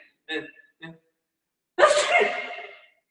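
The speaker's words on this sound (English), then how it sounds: "that's pollen making you sneeze" A single loud sneeze bursts out after a couple of short inhaling gasps, close and alone.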